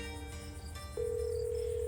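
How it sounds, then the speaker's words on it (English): In the horror visual novel Scarlet Hollow, a phone call starts with a steady electronic ringing tone that switches on abruptly midway and holds level, clear and close, with faint background hum before it. "It rings for a moment before she picks up."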